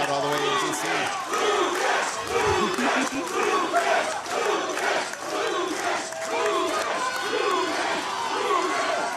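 Loud, dense crowd roaring and cheering at a national powerlifting deadlift competition, a sustained wall of shouting voices swelling through the whole stretch with a commentator's voice over it.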